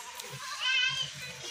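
Goats and young goat kids bleat softly at a livestock sale, a short wavering cry rising over low murmuring and background voices.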